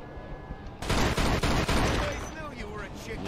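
A burst of gunfire in the Mafia II video game opens abruptly with rapid, loud shots in a dense volley lasting about a second, then fades into a lingering tail of echoes and ringing.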